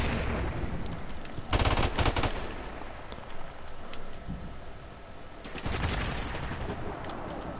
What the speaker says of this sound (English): Don't be shooting me with an M4.